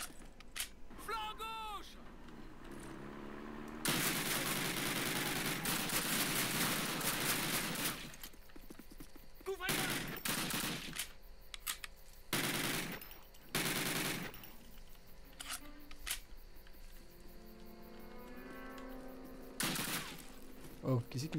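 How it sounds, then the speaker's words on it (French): Bursts of explosive-bullet gunfire in the Call of Duty video game crack out in loud volleys separated by short gaps, with a player talking in between. "Ça fait des explosions, quoi, ça. Des balles explosives."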